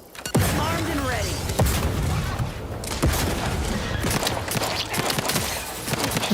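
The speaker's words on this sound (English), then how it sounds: "Let's pepper this guy with a bunch of grenades." Grenade blasts in The Outer Worlds 2 go off as a series of loud, booming bursts, with sharp transient hits punctuating a dense, continuous roar of combat noise while a voice talks over it.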